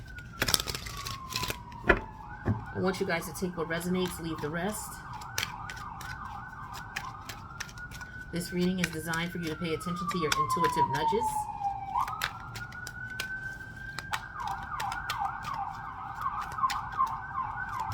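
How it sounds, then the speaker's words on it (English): Emergency vehicle sirens wail outside, passing by and sliding up and down in long sweeping tones with fast yelping stretches, fairly loud and steady under continuous talking indoors. "Okay, the sirens are going."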